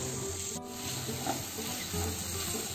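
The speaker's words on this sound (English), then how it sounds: "Fry well on medium flame." Semolina with peanuts, turmeric and vegetables fries in a pan over a medium flame, giving a steady, close sizzle with soft rubbing scrapes throughout and no talk.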